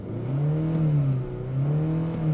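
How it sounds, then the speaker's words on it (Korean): A Kia K8 2.5 four-cylinder engine revs high and smoothly to about 5000 rpm, its tone rising and dipping slightly in a steady mechanical hum heard from inside the car. "5000rpm까지 올려도 물론 4기통 자봉틀 재봉틀 소리는 나는데"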